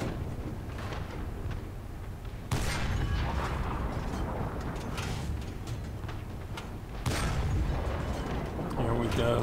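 Panzer III Ausf. J1 medium tank cannon fire in War Thunder, two heavy booms several seconds apart over steady engine rumble, with someone talking through the battle.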